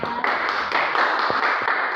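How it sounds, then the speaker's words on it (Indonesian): Junior high students clap for themselves in a classroom during a civics lesson, a short burst of dense, close hand claps filling the room. "Tepuk tangan untuk diri kalian ya."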